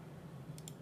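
Two quick, close mouse clicks land near the end while applying a colour-correction effect in Final Cut Pro, heard over a steady low hum with no talking.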